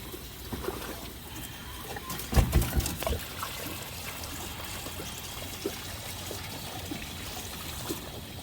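Grey water pours and trickles as it drains from a caravan tank in the rain, a steady watery flow with a brief louder gush and scattered drips.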